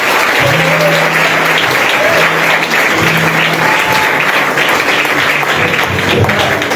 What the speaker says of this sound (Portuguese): Bate palmas para o Senhor